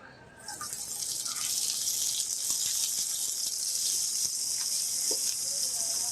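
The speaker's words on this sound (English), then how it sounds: "I'm going to saute these vegetables, soften them up" Vegetables sauté in a hot pan, a continuous bright sizzle that swells in within the first second and holds steady and fairly loud, with a few faint clicks from stirring.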